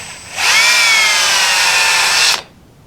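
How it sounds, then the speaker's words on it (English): A power drill bores a hole into the end of a piece of boat trim, a steady whine that starts abruptly, holds evenly for about two seconds at close range, then cuts off, with no talking. "So I'm just gonna take my time and drill this hole in the end of this."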